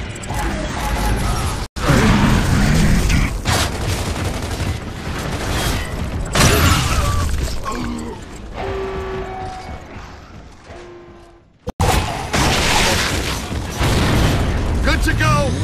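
A frag grenade goes off amid gunfire and battle noise in Gears of War: Judgment, with loud booming blasts and mechanical clatter close up, sharp cuts in the sound, and character voices shouting over the action.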